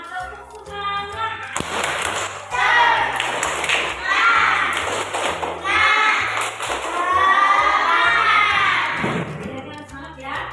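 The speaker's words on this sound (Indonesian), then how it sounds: "kita tepuk semangat, tepuk semangat." A class of children performs a rhythmic clapping chant, with regular claps and thumps under loud shouted group vocals that rise and fall in bursts across the room.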